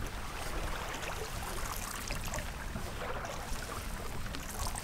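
Motorboat running with a tailwind on Lake Ontario, a loud, steady rush of water and wind washing across the hull with no pauses.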